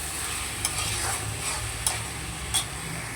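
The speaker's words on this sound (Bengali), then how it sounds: "এবার সব কিছুটা ভালো করে আবারও নেড়ে চেড়ে নেবো।" Spiced fish curry mixture with chilli powder stirred in a frying pan, a steady soft sizzle running throughout with three brief sharp scrapes of the spoon spaced about a second apart, close and alone without talk.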